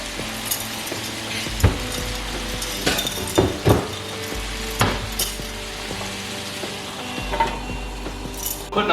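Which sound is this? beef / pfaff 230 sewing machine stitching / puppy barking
beef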